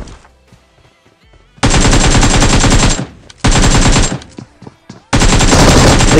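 Automatic AKM rifle fire in the mobile battle royale game BGMI, three loud sustained bursts separated by short pauses with quieter game ambience between them.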